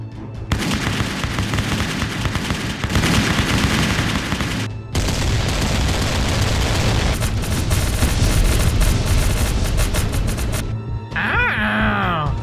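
A volley of rifle gunfire from an animated battle scene crackles as dense, sustained bursts of shots with booming impacts, loud and close, pausing once briefly before resuming, with voices shouting beneath the din.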